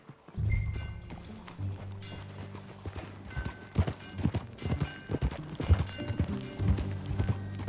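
Hooves clip-clop at a brisk riding pace in the video game Red Dead Redemption 2, with a low sustained tone underneath and occasional faint voices.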